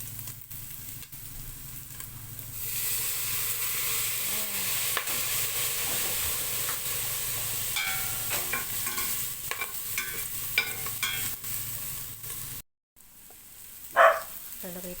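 Soy sauce poured into a hot pan while stir-frying, with a steady loud sizzle and hiss that swells as the liquid hits, then scraping stirs and clatter of a spatula, close up, with a brief dropout near the end.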